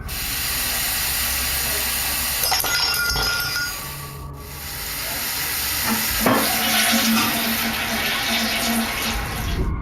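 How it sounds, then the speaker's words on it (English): A toilet flushes with a long rushing, hissing gush of water, a sharp clunk partway through as the lid drops shut. "This is followed by the toilet flushing, and what sounds like the lid slamming shut."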